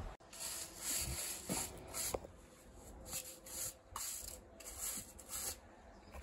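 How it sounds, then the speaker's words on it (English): Soft bristly brushing strokes of a grooming brush over a toy pony, quiet and close, a steady run of rubbing swishes with no talking. "So I'm just going to give her a quick brush."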